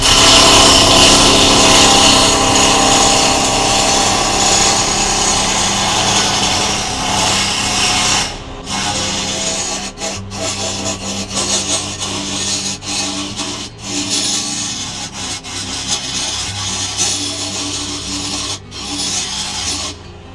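A wood lathe roughs down a wooden blank for a mallet, giving a loud, continuous rasping scrape. After about eight seconds it breaks into uneven bursts with short gaps.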